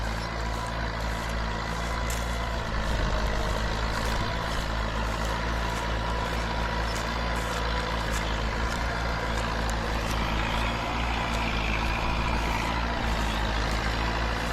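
Massey Ferguson 185 and Ford 8210 tractors pull four-disc plows through hard soil, chopping and burying sugarcane leaves, with a steady heavy diesel drone running continuously at close range.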